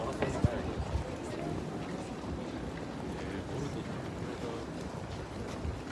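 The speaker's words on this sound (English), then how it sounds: "There's a wind, a slight breeze here" A slight breeze outdoors on a warm day at a Tokyo event, heard as soft, steady wind rush and microphone buffeting throughout, with a brief thump near the start.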